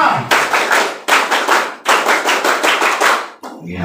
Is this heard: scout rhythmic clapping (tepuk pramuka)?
yes